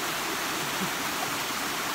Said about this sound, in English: It's a high mountain creek.